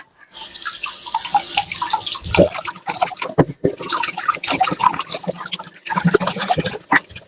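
Eggs being washed under running tap water in a kitchen sink, with steady flowing and splashing water, drips and light knocks of eggs against each other or the basin, continuing close by without pause.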